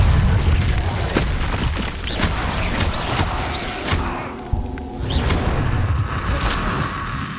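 Confringo spell explosions in Hogwarts Legacy combat, a dense, loud run of booming blasts and crashing impacts with whooshes, nearly continuous with a brief dip midway.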